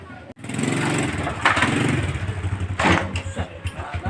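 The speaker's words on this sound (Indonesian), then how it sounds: "Nah si Jagger suara motornya" A motorcycle engine runs steadily nearby, rumbling with low pulsing revs that rise and fall, with faint voices underneath.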